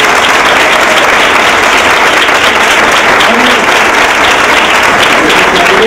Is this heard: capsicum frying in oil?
no